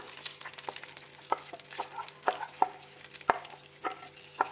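Boiled, ground spinach fries in hot oil for palak gosht, heard as a soft frying hiss under repeated uneven clacks and scrapes of a spoon stirring in the pot, with no voices.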